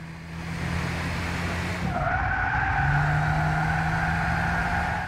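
Tires squealing in the Gran Turismo 6 racing game, a continuous pitched screech that rises and holds over a steady engine roar, loud and close with no talking.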